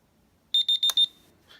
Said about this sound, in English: They should all beep when you click on them.